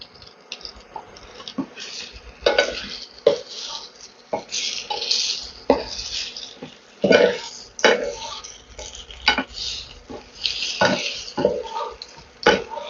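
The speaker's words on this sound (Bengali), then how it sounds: "এবারে আমি যে পটেটোগুলো আছে সেগুলোকে আমি এই অয়েলের মধ্যে একটু টস করে নেব।" Baby potatoes tossed and stirred in hot oil in a pan for a chili garlic potato dish, with repeated clinks and scrapes of a utensil against the pan over a steady low sizzle.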